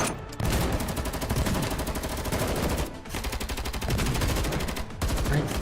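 Rapid sustained automatic gunfire in the video game GFL2 Exilium, loud and continuous with short breaks, a dense crackling barrage filling the whole clip.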